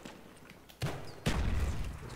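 Gunshots in Call of Duty Black Ops on Xbox 360 with a G11 rifle, two sharp bursts: a first report followed moments later by a louder, fuller blast that rings on, no speech over it.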